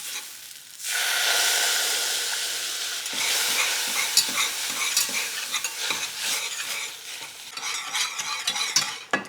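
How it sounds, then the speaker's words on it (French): A roux of flour, oil and plant milk is stirred in a pan, a steady scraping and swishing with a soft sizzle that runs close and continuous after a brief quiet start, with no talk. "je vais venir mélanger la farine avec l'huile afin de former ce qu'on appelle un roux"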